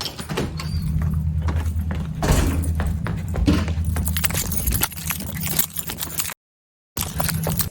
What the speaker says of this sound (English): dangling our keys in everyone's ears